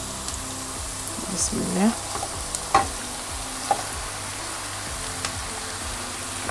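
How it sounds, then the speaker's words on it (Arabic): Marinated chicken hits lightly sautéed onions in a pan, setting off a steady sizzle broken by a few sharp scrapes and clatters of stirring, with a brief spoken phrase near the start. "كده البصله خدت تشويحه خفيفه زي ما احنا شايفين. هنزل دلوقتي عليها بالفراخ."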